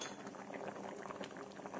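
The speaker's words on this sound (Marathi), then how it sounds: "तेल घालता" Oil goes into a hot iron pan for a coconut masala, giving a soft, faint bubbling and liquid pouring sound that stays quiet and steady for under two seconds.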